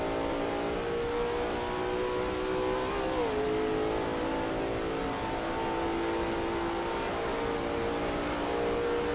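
A Lola T70 MkII Spyder race car's engine drones loudly in a racing video game at Kyalami, holding a steady high-revving tone with a brief pitch dip around a gear change before settling back into a constant, close howl.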